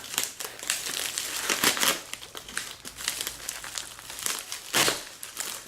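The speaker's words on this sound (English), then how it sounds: "I'll go ahead and cut the tape on this one" Packing tape being cut and a cardboard shipping box for a HyperMac external MacBook battery being opened make close crinkling, tearing and rustling in irregular bursts, with no voices.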